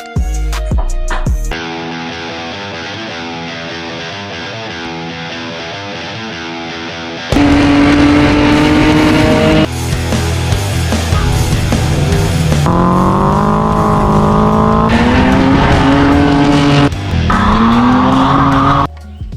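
A BMW E46 with a swapped LS V8 cranks, fires and settles into a loud, rough idle, then revs in repeated rising and falling pulls, close up with no talking.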